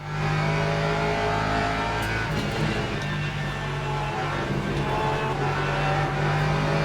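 Race car engines roar loudly and continuously in a Le Mans Ultimate sim race featuring Porsche and Lexus cars, with steady high revs and faint shifts throughout.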